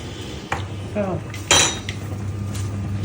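Pots and pans clatter in a home kitchen during cooking, with a few sharp metallic clinks and knocks and one louder bang over a steady low background hum.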